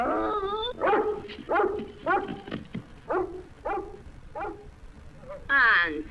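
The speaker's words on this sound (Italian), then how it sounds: "se diciamo una sola parola, quel cane vi sbrana. È feroce." A dog barks in a scene from the 1956 Dean Martin and Jerry Lewis comedy film Hollywood or Bust, with several sharp, close barks and yips spaced over a few seconds and mixed with people talking.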